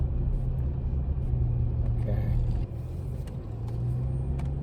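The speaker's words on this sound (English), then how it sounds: "Okay, and we're just driving around." Car driving slowly through a residential neighborhood, a steady low engine and road rumble holding throughout with a brief dip midway, heard from inside the vehicle.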